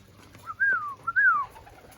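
A racing pigeon with an orange leg band gives two drawn-out whistly coos close by, each rising then sliding down, over a quiet outdoor background without talk.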